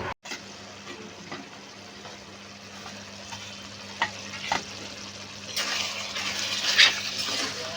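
Minced meat keema curry frying in a pan, a continuous close sizzle with occasional scraping stirs, growing a little louder toward the end, with no voices.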